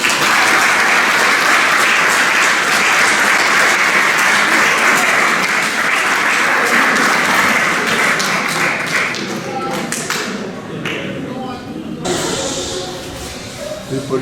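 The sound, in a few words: audience applause for Antonio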